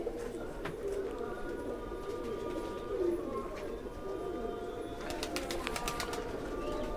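Pigeons in a fancier's loft coo steadily at close range, a low, throaty murmur that repeats through the clip with a few sharper chirps and clicks near the end.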